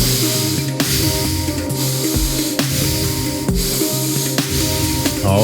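Nose-only power breathing of the Wim Hof kind, outdoors in nature: a series of five or six sharp, close, hissing sniffs and exhales through the nose in a quick, even rhythm.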